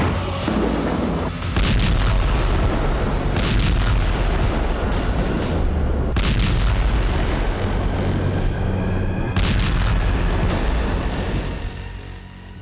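Indian artillery guns fire at the border, with repeated heavy booms and blasts at uneven intervals over a constant loud rumbling roar that continues between the shots.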